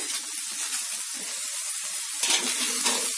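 Fresh field beans and dill greens frying in a pan, a steady close hiss of sizzling with soft stirring scrapes and a brief louder crackle near the end.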